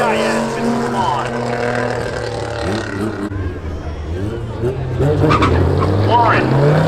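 Drag racing cars, including a Camaro and a yellow Fiero, roar at Seekonk Speedway in a steady loud engine wash, with a commentator talking continuously over the racing noise.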